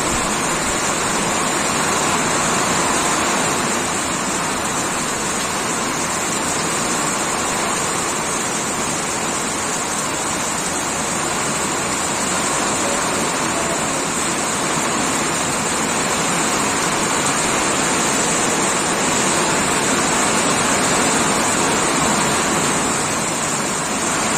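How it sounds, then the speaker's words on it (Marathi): Heavy rain pours down in a dense, steady roar that continues without pause throughout. "एकदम जोराचा पाऊस सुरू झाला आहे"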